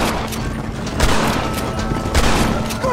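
Gunfire in the Red Dead Redemption game on PS5, a few heavy shots landing about a second apart over a constant noisy battle bed, with the reports close and loud.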